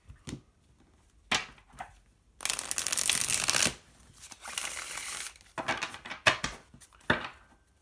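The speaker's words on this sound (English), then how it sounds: "I love shuffling these cards" Bursts of riffling tarot card shuffles, close and crisp, with a long continuous riffle in the middle and short snaps and taps around it.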